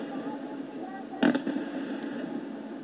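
A Fourth of July fireworks display over the riverbank in Charleston, WV, heard from across the river, gives one sharp distant burst and a few fainter pops over a steady background rumble.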